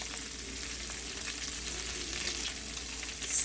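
Fresh spinach sizzles steadily in a hot pan as it is stir fried alongside shrimp with Cajun seasoning, a continuous close frying hiss with a few soft pops and no talk.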